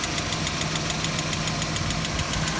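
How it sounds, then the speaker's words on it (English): Engine of a 1990 Mazda Miata, a lightweight roadster, running steadily with a fast, even mechanical pulse and a low hum, heard up close without any talk over it. "it's just a nice peppy engine. And it's happy to rev out, wind it out"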